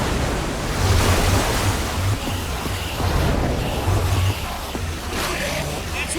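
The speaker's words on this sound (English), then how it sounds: "I don't know how much water this thing is gonna kick out" A machine in Minecraft Story Mode gushes water in a steady, loud, surging rush that swells and ebbs a little, with no voices over it.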